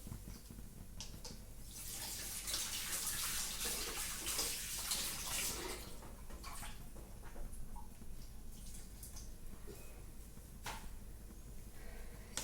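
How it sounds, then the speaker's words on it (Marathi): Coriander leaves are rinsed under a running kitchen tap, a quiet, continuous splash of water with brief swells as the leaves are moved about. "आता सांबार धुवून घेते."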